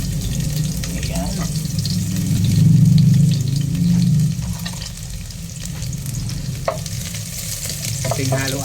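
Chopped garlic sizzles and crackles in hot oil in a pan while being stirred for chicken afritada, a steady frying hiss with scraping clicks and a low rumble swelling midway, close and fairly loud.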